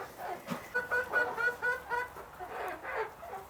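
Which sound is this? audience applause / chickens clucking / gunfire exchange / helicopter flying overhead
chickens clucking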